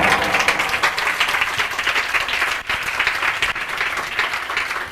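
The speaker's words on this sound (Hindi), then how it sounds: "ताली बजाकर परमेश्वर को धन्यवाद बोलो।" A church congregation applauds during an Easter sermon, producing a loud, dense, continuous wash of clapping from many hands that lasts the whole stretch with one tiny dip.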